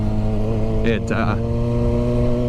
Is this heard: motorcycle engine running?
yes